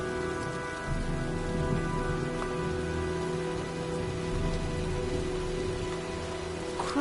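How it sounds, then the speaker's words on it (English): Steady storm rain in the video game Heavy Rain, a dense even patter continuing throughout with a low rumble beneath, no voices. "looks like a storm's coming"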